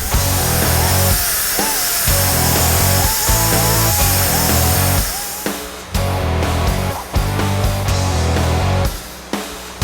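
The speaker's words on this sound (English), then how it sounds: "I'm just gonna take a carbide bit, auger that out till it fits" A power drill with a carbide bit augers out a hole to fit a part during a 4-inch Rough Country lift install on a 2003 Ford F-250, whining loudly and steadily with a few brief stops and restarts.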